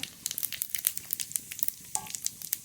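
Whole cumin seeds and two dried red chillies sizzle in hot mustard oil in a wok, giving a steady close crackle of quick pops and spits with no talk.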